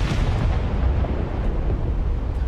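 Dense rumbling barrage of naval gunfire and overlapping explosions in a naval battle video game, continuous deep booms at steady loudness with no pauses.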